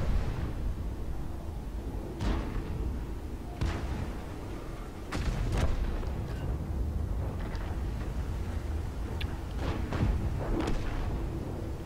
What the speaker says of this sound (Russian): Чё это за два выстрела были?